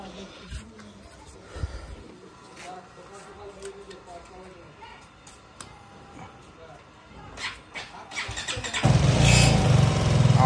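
A worn, rattling motorcycle with a broken gas guard nut is kicked and cranked, ending in a loud engine catch and idle. Someone talks throughout and a dog barks nearby.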